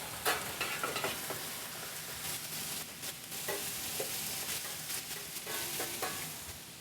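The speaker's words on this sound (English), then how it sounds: "So we're gonna get started with searing our chicken." Chicken searing in fat in a hot pan in a professional kitchen, a steady bright sizzle and crackle with occasional stirring scrapes, close and continuous.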